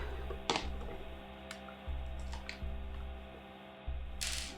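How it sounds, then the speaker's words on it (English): A screw is worked loose from a MicroFreak synthesizer during a caseless mod, giving a few small, sharp clicks and ticks spread over a low steady hum, with no talking. "Let me just remove this screw."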